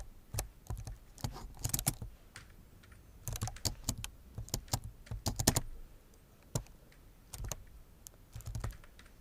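Typing on a computer keyboard while filling in an Excel spreadsheet: close, crisp bursts of rapid keystrokes separated by short pauses, with no voices.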